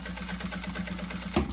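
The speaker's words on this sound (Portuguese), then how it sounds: "eu vou passar a costurinha aqui" Sewing machine running steadily as it stitches a seam on a small fabric Easter bag, a fast even mechanical whir with a brief louder knock near the end, close and alone.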